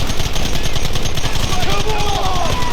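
Dense, rapid gunfire in Red Dead Redemption on Xbox Series X/S, with near-continuous automatic-style bursts that stay loud throughout alongside a faint voice.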